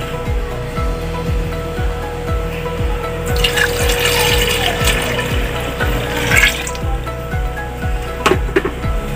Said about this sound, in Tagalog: So lagyan natin siya ng mga 2 liters of tubig ulit.